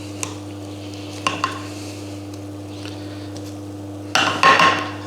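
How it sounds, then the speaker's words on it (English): Roast potatoes are pressed down in an oiled roasting tray, giving a few soft clinks and squishes against the metal, then a louder burst of scraping and crunching near the end, all close up over a steady low hum. "don't be afraid to give them a little squeeze"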